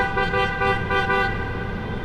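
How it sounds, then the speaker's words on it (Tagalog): A steady, loud car horn blares inside the Kaybiang Tunnel, one sustained honk with tunnel echo and engine rumble underneath, pulsing slightly as it holds for two seconds. "Dapat daw bumubusina rito eh."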